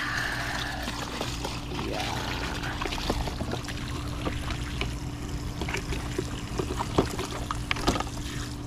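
Water runs steadily from a tap while squid bait is being washed, a constant close splashing and trickling with a few sharper clicks and knocks, and no one speaking.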